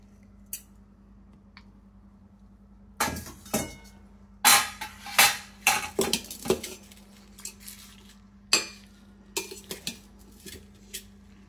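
Tempering is stirred into cooked rice for pulihora in a home kitchen. A spoon clanks and scrapes against a metal pot in irregular bursts over a faint steady hum, with no talking.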